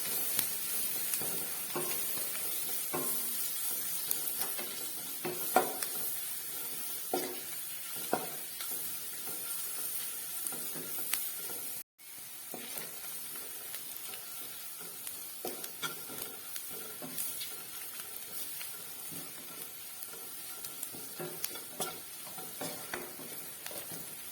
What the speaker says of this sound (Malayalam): ഒരു സ്പൂൺ ചിക്കൻ മസാലയാണ് ചേർത്ത് കൊടുക്കുന്നത് ഇനി ഇത് കൂടി നന്നായിട്ടൊന്ന് ഇളക്കി കൊടുക്കാം